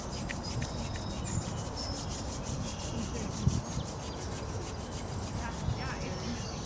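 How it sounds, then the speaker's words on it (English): Palms rubbing together during a qigong session, a steady, close, dry swishing friction that runs on evenly, with faint speech in the background. "rub your hands"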